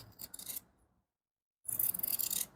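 Fabric scissors trim cloth for a shirt collar in two short bursts of close, crisp snipping and rasping, separated by about a second of silence.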